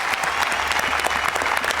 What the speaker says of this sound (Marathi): दोन्ही संगीतकारांसाठी जोरदार टाळ्या